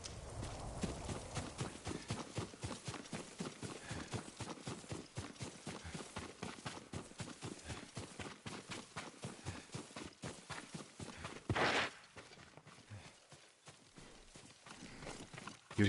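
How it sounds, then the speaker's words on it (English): Steady rhythmic clip-clop of a horse's hooves walking in the video game Ghost of Tsushima, moderately close and continuing for most of the stretch with a brief louder burst near the end and no speech. "Yuriko's horse. She can't be far."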